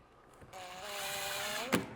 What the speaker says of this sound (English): we can grab our power drill, run those 4 screws back in at the top.